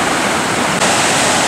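Rushing water of the Imeretinka river, a broad steady roar of flowing current, loud and close, continuous with no pauses and no voices over it.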